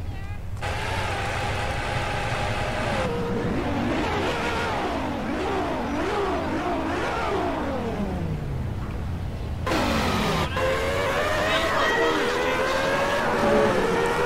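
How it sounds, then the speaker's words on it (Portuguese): Sports car engine in the video game GTA revving hard, its pitch sweeping up and down through repeated throttle blips, then holding a loud steady high drone, with some speech mixed in. "Áudio de carro esporte mesmo,"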